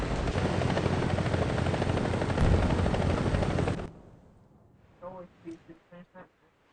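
A loud, dense helicopter roar with rotor chop fills the first few seconds in a tank video game, then cuts off abruptly, leaving quieter game effects and short bursts of voices.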